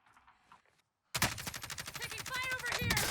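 Heavy gunfire in the video game Call of Duty Modern Warfare: after a brief quiet stretch with faint talk, dense rapid automatic fire bursts in loud and continues as a sustained fusillade of sharp repeated shots.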